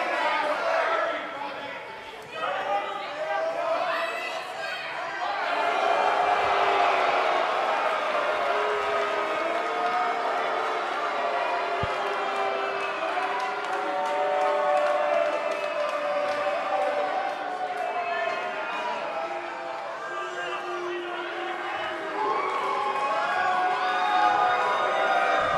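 A wrestling crowd roars and cheers at the ICW Ignite event, a sustained, loud wash of voices and whistles that swells steadily throughout, with commentators talking over it.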